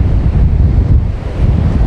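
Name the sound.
strong sea waves and wind at Nagaon beach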